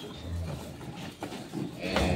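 A dairy cow being milked on a farm in Dinajpur lets out a low moo and then another, moderately close, over background farm noise with faint voices.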